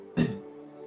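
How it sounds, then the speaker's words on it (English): One short, close cough from a man, a single sharp burst that fades quickly into quiet room tone. "Sorry, I had to cough there."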